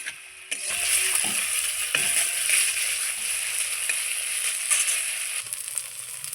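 Spice paste sautéing in oil for a raw banana and fish curry, a continuous bright sizzle with occasional scrapes and knocks of a spoon against the pan, close and steady throughout.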